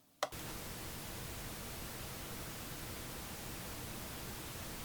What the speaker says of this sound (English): It's the analog switch, but to me it's just adding a load of hiss and possibly hum.